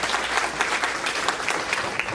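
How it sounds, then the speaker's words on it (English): An audience applauds the board candidates at a real estate association breakfast meeting, a steady wash of many hands clapping close by for about two seconds without pause. "Give another round of applause to our candidates here"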